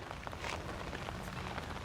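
Steady rain falls outdoors, a dense, even hiss of drops on surfaces that stays close and continuous throughout, with no voices over it.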